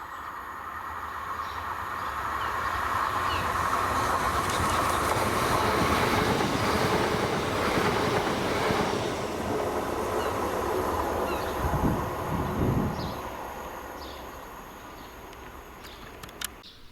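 A ScotRail passenger train hauled by locomotive 17430 rumbles steadily through Monifeith station, a loud sustained roar of wheels and rail clatter that swells, holds for many seconds, then fades, with faint squeals and clicks near the end.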